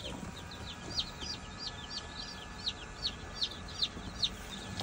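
Day-old chicks in a brooding box give high, faint peeping chirps in a quick repeated series over a low background hum.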